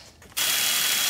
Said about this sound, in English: I don't know if you can see the gear jumping in there